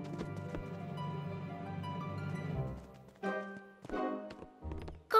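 Cartoon sky horses trot with light clip-clopping hooves, a quiet sequence of quick, rhythmic taps that thins into a few scattered hoof beats and short bright accents near the end.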